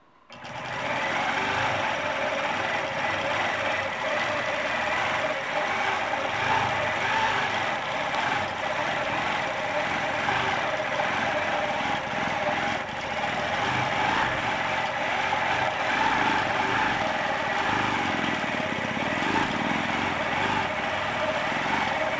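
A sewing machine runs continuously for over twenty seconds while quilting feather patterns, a steady fast mechanical chatter at close range with faint talk in the background.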